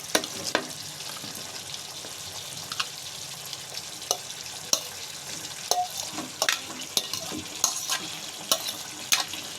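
Vegetables stir-fried in a pan for potato jalfrezi give a soft steady sizzle with repeated sharp clinks and scrapes of a spatula stirring against the pan at an irregular rhythm.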